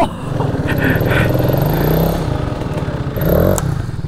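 A 2022 Sur Ron Light Bee X electric dirt bike at full throttle gives a loud, close, steady whine with clattering from the chassis and a brief swell near the end, heard alone without talk.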